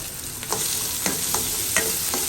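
Onion, ginger garlic paste and tomato fry for paneer gravy with a close, steady sizzle broken by several spatula stirs and scrapes in the pan.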